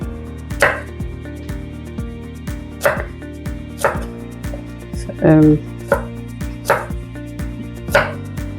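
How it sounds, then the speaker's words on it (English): Knife chopping garlic cloves on a cutting board in a kitchen, a steady series of sharp, close thunks about once a second, with a dull tonal hum behind them. "I'm just cutting it to make it easier on the blender"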